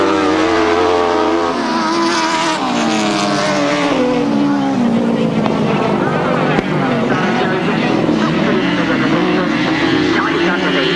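Grasstrack sidecar motorcycles race in 1997, their engines roaring loudly and continuously with rising and falling revs as the outfits work through a bend.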